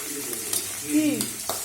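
Fish frying in hot oil sizzles steadily as the pieces are lifted out with a utensil, giving soft scraping and clinks in a home kitchen, while a voice speaks briefly.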